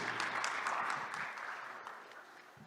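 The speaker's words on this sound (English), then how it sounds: "Let's give him some applause, please." Audience applause at a startup investor pitch event, a moderate round of clapping already underway that slowly fades as it goes on.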